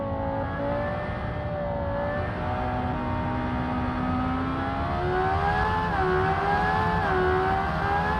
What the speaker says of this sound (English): this engine sounds brilliant. The downshift sound especially good to my ear.